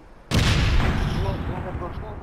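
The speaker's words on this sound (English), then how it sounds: "they got grenade launching with snowballs in it" Snowball grenade launcher firing in APB Reloaded during a Christmas event: a sudden loud boom that spreads into a long, rumbling, noisy wash lasting a couple of seconds, with faint tonal traces underneath.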